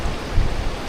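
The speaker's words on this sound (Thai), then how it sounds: "เป็นบรรยากาศฝนตกนี่เนาะ" Steady rain falls on a hillside farm, a dense even hiss with soft low patter, unbroken and close for this brief moment.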